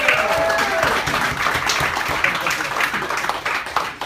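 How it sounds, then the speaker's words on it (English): Audience applause for volunteers on stage at a hypnosis show, a steady wash of clapping that holds at an even level across the whole stretch, with some crowd noise mixed in. "please, have a nice round of applause for your stars up here"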